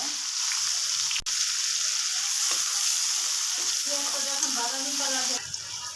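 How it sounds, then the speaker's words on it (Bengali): Onions sizzle steadily in hot oil in a pan, cooked to brown for a rohu fish curry, a continuous close frying hiss with light stirring. "পেঁয়াজটা আমি ব্রাউন কালার করে নিব"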